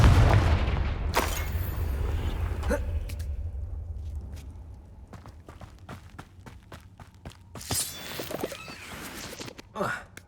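A Confringo spell blast in Hogwarts Legacy opens with a loud booming impact, followed by quieter thuds, footsteps and combat hits, with a voice calling out.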